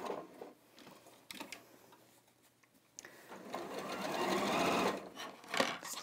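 An Elna 720 Pro sewing machine top stitching a bag runs in short bursts, then a longer steady rapid chatter, close up and moderately quiet with pauses between runs.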